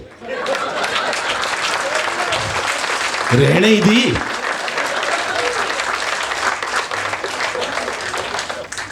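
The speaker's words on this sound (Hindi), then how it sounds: "5 लोगों ने ताली बजाई है टोटल।" At a Hindi kavi sammelan poetry event, a small crowd claps steadily, moderately loud and continuous, with a brief voice rising over the clapping midway.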